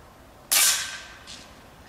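A single sharp rifle shot from an Eger rifle fired at an iPhone target 150 metres away, loud and abrupt, with a short fading tail and a faint echo about a second later.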